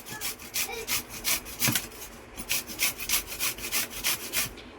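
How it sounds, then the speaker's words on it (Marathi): Raw green mango, young and tender with no seed formed yet, is grated by hand in a kitchen, giving a steady run of rhythmic rasping strokes, close and fairly loud, with no talk. "अशी हळूहळू आपल्याला ही कैरी किसून घ्यायची आहे"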